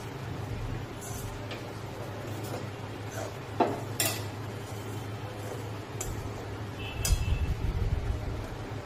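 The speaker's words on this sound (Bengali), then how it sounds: "ছোলার ডালের পাউডারটা দিয়ে দেবেন। দিয়ে একটু সামান্য নাড়তে হবে।" Chickpea flour is stirred in a pan for a chola dal barfi or halua, with scattered scrapes and metallic clinks of a utensil over a low background hum and a faint murmur.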